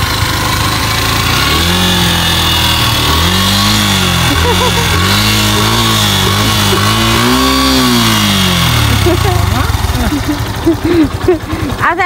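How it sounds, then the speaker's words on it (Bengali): A motorcycle engine revs and idles close by, its pitch rising and falling in repeated swells, while people talk over it. "মামা ভাইনিকে এখন বাইক চালানো শেখাচ্ছে"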